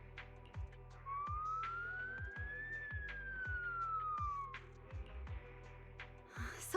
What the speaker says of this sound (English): So it really is a siren.